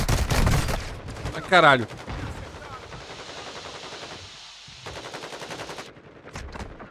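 Rapid gunfire exchange in Call of Duty Warzone 2.0, with bursts of automatic fire and sharp shots throughout, a loud close burst partway in, and a man's brief exclamations over the shooting.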